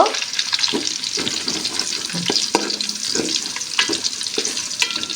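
Chopped onions for a chicken roast frying in hot oil, a dense, continuous close sizzle with repeated scraping strokes of a spoon stirring through the pan; no voices.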